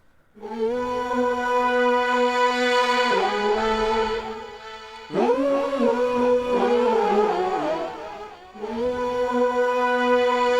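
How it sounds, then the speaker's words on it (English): A soft, airy sung vocal tone with a shimmering, layered pitch, held in long phrases that break and restart several times, with no talking. "It's kind of a dreamy vocal sound that is in the final chorus"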